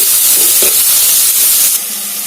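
Onions frying in a pan, a steady broad sizzle and hiss close up that runs loud and unbroken, then drops slightly toward the end, with no voices.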